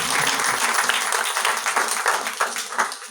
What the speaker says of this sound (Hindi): एक बार जोरदार तालियां बजाएंगे परमेश्वर के लिए।